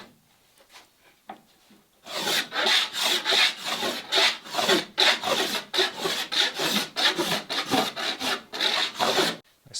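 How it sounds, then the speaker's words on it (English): A spokeshave planes wood on a Catalina Wherry boat build, its dull blade chattering through rapid rasping strokes after a few faint taps, each pass loud and close in a steady back-and-forth rhythm. "My spoke shave is being very chattery, which tells me it's probably time to sharpen as well"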